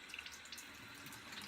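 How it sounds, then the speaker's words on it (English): Warm tap water runs steadily into a sink for rinsing after a shave, a soft continuous splash heard alone and fairly quiet. "Warm water wash off."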